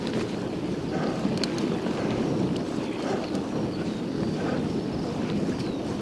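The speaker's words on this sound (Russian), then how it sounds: "О, ветер, блин. Я его ждал уже." Wind rushes across the microphone of a rider cycling on a dirt road through a village on a hot May day: a dense, steady roar with gusty buffeting and faint rattles, no voices.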